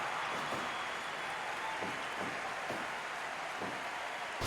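A live pro wrestling show crowd cheers and roars steadily through an opening bout, a dense, loud wash of voices with brief bursts rising from the noise.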